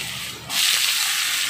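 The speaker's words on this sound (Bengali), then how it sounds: "তেলটা কিন্তু গরম হয়ে গেছে, আমি কেটে রাখা আলুটা প্রথমে তেলের উপরে দিয়ে দিচ্ছি" Cut potatoes dropped into hot oil set off a sudden loud sizzling hiss that jumps up partway through and holds steady and close, with no talk.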